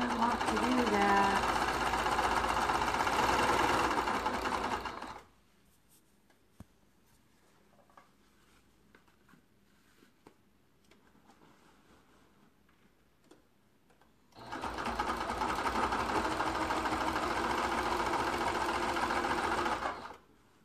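A sewing machine with a walking foot stitches binding onto a large quilt in rapid, steady runs, falls quiet for several seconds, then starts stitching again.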